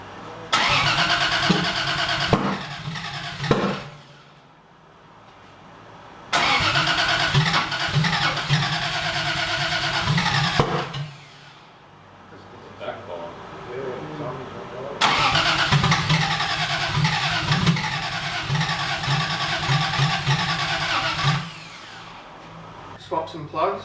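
A Toyota 1JZ engine swapped into a Cressida cranks and fires for its first startup in repeated attempts, each bursting into rough loud running and revving before cutting out, with people talking nearby.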